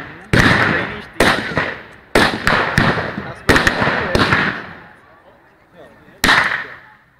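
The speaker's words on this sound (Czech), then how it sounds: "Granáty." Grenade blasts at an outdoor WWII battle reenactment in Moravské Lieskové: roughly half a dozen sharp, loud bangs at irregular intervals, each trailing off in a brief rumbling decay.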